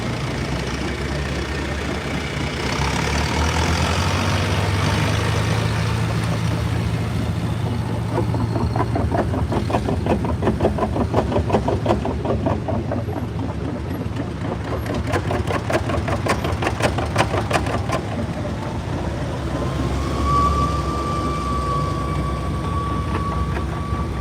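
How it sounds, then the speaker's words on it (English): An antique pulling tractor engine runs at a tractor pull event, a low steady rumble that swells and revs with rapid pulsing bursts midway before settling back, heard from a moderate distance. "He's been running good with that tractor."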